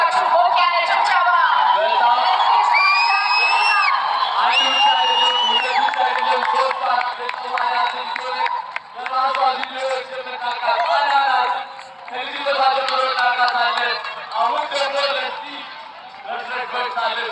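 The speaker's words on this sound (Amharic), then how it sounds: "እባካችሁ ሞቅ ያለ ጭብጨባ።" An audience at the G-Power TikTok Creative Awards 2025 ceremony cheers, whoops and claps in a sustained, lively crowd roar that swells and dips, with an announcer's voice heard over it.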